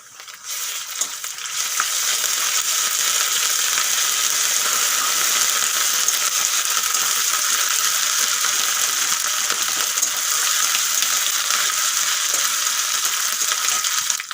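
Ginger-garlic paste hits hot oil over fried onions and bursts into a loud, dense, continuous sizzle and spatter that holds steady, with faint scraping of stirring.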